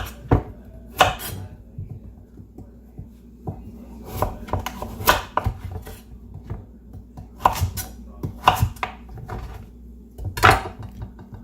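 Vegetables cut on a cutting board with a knife into carrot-sized pieces while preparing homemade chicken wings, irregular bursts of crisp chopping thuds, close and fairly loud, with no talking.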